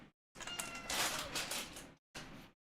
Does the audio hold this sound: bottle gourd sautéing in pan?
no